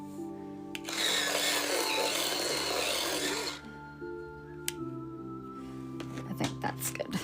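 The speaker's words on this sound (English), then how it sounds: "I'm going to use my electric sharpener today, so it's going to be a little bit noisy." An electric pencil sharpener grinds a colored pencil for about three seconds, a steady close whirring buzz that stops abruptly, followed by faint tapping and handling noises over a quiet background of soft music.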